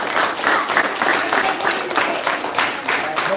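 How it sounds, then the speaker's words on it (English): Audience members clap for a speaker at a gathering, a lively, uneven burst of applause with some rhythmic pulses, close and fairly loud. "Y'all clap it up for Mr. Harris."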